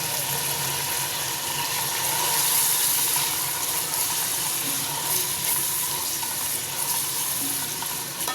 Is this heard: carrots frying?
yes